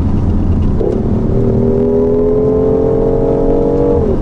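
A BMW i8 hybrid's 1.5-litre three-cylinder engine, paired with an electric motor, hums loudly and steadily, its pitch rising slightly as it accelerates, then drops off near the end.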